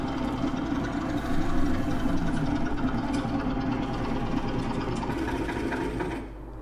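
An IMT Rakovica tractor's engine and air compressor running in Farming Simulator 19, a dense continuous mechanical drone with a rapid chattering pulse, loud and steady, easing off slightly at the very end.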